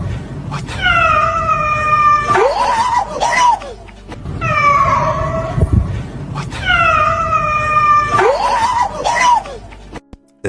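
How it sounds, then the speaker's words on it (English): Loud screeching, cat-like wails from a dark creature resembling a black panther, called a hellhound, rising and falling in repeated drawn-out cries, three main bursts with harsh broken edges over a constant rough background. "it sounds like a cat, so technically that matches up"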